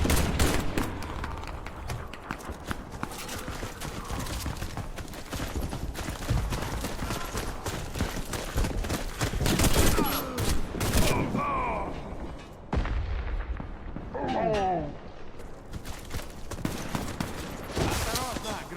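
Rapid bursts of gunfire and explosive booms from the Warface video game, dense and loud throughout, with a brief lull and then more shots; the grenade blast itself is not clearly distinct.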